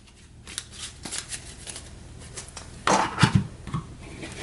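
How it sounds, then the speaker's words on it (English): Game cards from a Warfighter WWII Europe set being sorted, a close, papery rustle and light flicking, with a louder clatter of cards near the end. "I'll go ahead and sort these cards out"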